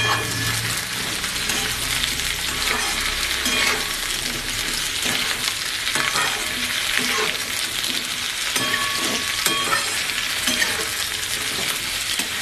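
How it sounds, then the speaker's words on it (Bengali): Eggplant and potatoes frying in a pan, a constant close crackling sizzle punctuated by repeated scraping and clinking as a spatula stirs them. "বেগুনটাও ভেজে নেব।"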